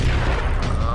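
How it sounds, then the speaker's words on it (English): Grenade blasts and gunfire in Halo 3 ODST merge into a dense, loud, booming rumble that fills the whole second. "They're just like spamming the grenades everywhere."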